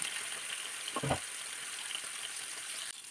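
Fish pieces fry in hot oil for a Kerala fish molee, a steady crackling sizzle running throughout with a brief louder spatter as a piece drops into the pan.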